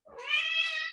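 A single cat meow, close and clear, rising and holding for just under a second before trailing off, with no other sounds around it.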